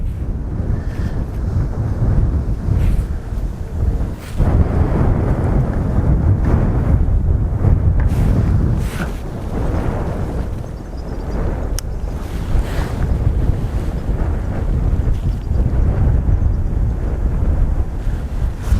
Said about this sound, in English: It is really, really strong wind, 20-25 mile an hour winds today